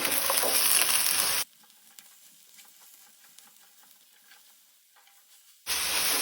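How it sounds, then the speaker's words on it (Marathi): Ridge gourd seasoned with salt sizzles and is stirred in a hot oiled pan: loud frying hiss at the start, a much quieter stretch of soft scraping, then the loud sizzle returns at the end. "आतां हांव तातूंत घालता भाजी। चवीपुरते मीठ। मिक्स करून घेऊया।"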